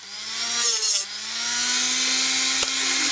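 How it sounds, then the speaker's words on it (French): A Dremel rotary tool fitted with a small saw blade cuts a piece for a homemade airsoft sound mine, giving a loud, close, steady high whine with a brief pitch dip and a short catch near the end. "Et à la Dremel, avec la petite scie qui va bien à la Dremel"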